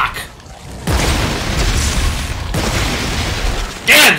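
Shotgun blasts in the co-op video game Dead Space 3, heavy booming shots that open into long rumbling roars, with a bright sharp burst near the end.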